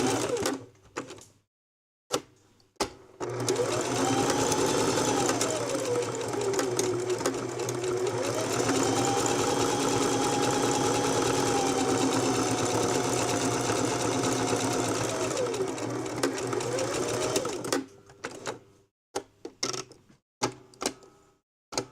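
Sewing machine running a long straight stitch through rope while making rope bowls and trays: a steady close motor hum with rapid needle chatter lasting about fifteen seconds, framed by short starts, stops and handling clicks.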